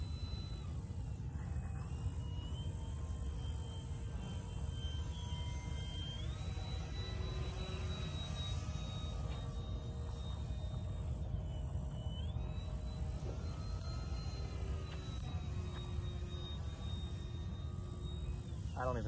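An E-flite Draco 2.0 m RC airplane runs at full throttle, a steady whining electric motor drone with pitch sweeps as it passes overhead, over continuous outdoor rumble, with people talking faintly.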